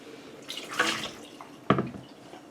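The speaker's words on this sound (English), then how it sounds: "I drained the water out of that bowl" Water splashes and gurgles in a short burst as it drains out of a bowl in a kitchen where a chicken is being quartered, followed by a sharper splash, quiet and close with no talking.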